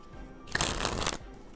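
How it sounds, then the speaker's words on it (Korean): A deck of playing cards springs from hand to hand in a single quick flourish, a crisp burst of rapid fluttering card riffles lasting about half a second, close and clear against a quiet room. "여기까지 카드 스프링이었습니다."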